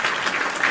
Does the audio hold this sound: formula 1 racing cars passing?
no